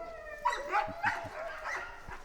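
A half-wolf dog with a long nose, friendly and quiet, gives a few soft whining, yip-like vocal bursts close to the microphone, heard alone in an outdoor setting.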